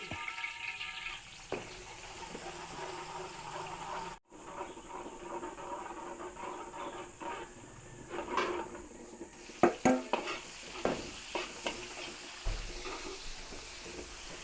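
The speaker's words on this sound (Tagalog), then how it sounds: "Gigisa ulit tayo. Bawang uli." Garlic sautéing for Filipino pancit gives a soft, continuous sizzle and hiss in a home kitchen, punctuated by scattered clinks and scrapes of utensils against the pan that grow busier toward the end.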